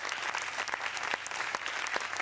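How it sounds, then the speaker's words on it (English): Applause on a talk radio show, a fairly faint steady patter of many hands with a few sharper individual claps standing out. "We will give you the applause for thanking you for the type of kind of sort of service that you did."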